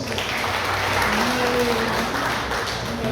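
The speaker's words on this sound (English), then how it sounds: "Another round of applause" A round of applause from the crowd at a BCBP Talisay Cebu Sunday afternoon gathering: a continuous, even roar of many people clapping that stays at a steady loudness throughout.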